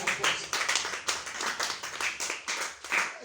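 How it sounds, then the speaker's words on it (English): Scattered hand clapping from a small audience at a lecture on learning disabilities, with uneven, fairly close claps in a loose rhythm and no talking. "So please give her another round of applause."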